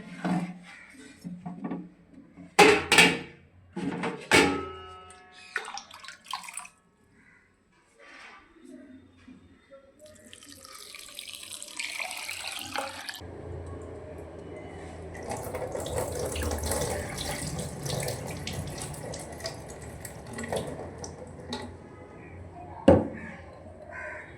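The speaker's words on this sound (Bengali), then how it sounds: "জল দিয়ে আগে প্রথমে ধুয়ে নিই মগের" Leftover rice is rinsed with water poured from a mug in a home kitchen, giving intermittent splashing and pouring sounds with clinks and handling noises. A voice talks over parts of it.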